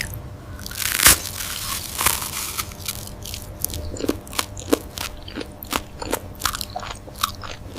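A crispy, hot Vietnamese street pizza crunches loudly as it is bitten, with sharp bites near the start followed by a steady run of smaller crackly crunches and chewing close to the mic.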